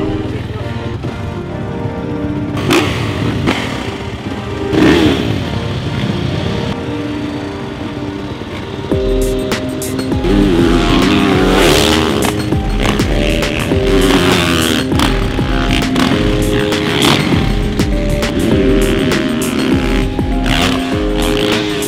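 A motocross bike engine revs and roars continuously, rising and falling through gear changes as it rides close by on a track in La Rioja, Argentina, loud throughout.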